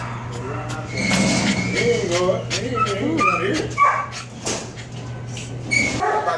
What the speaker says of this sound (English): Little puppies.